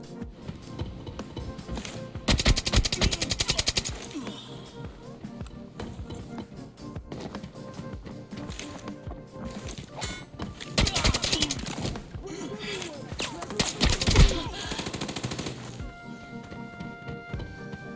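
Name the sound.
AK-74N assault rifle firing in Arena Breakout video game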